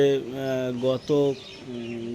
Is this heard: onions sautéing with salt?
no